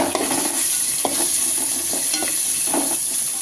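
Steady broadband sizzle of shallots frying in a pan for sambar, with a few soft stirring scrapes at intervals; no voices.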